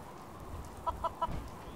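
A chicken in Fallout 4 clucks three short times in a quick, evenly spaced run over a low background rumble, fairly close and moderately loud.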